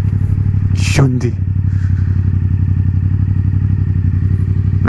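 A Yamaha MT-07 motorcycle with an Akrapovic exhaust rumbles loudly and steadily nearby, with a brief rising rev and a clattering burst near the start.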